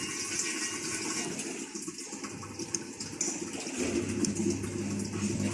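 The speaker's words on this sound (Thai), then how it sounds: "อันนี้มีเสียงน้ำเข้านะครับ" Steady rushing of water pouring into an Electrolux top-loading washing machine in test mode, a continuous gushing hiss with a low mechanical hum that grows slightly louder toward the end.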